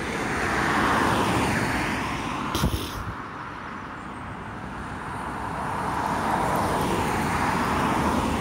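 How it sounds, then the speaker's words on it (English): Road traffic on a roadside beside woodland, cars swelling and fading as they pass close by with a steady roar, and a brief bump from handling noise in between. "Traffic, there's loads of traffic."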